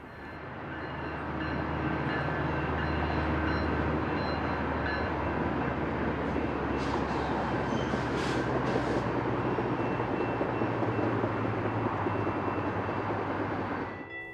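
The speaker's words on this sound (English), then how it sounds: "a westbound commuter train passed Valley Boulevard in Colton." A westbound commuter train rolls past Valley Boulevard in Colton, a steady, sustained rumble of wheels and cars lasting throughout, moderately distant, with no voices.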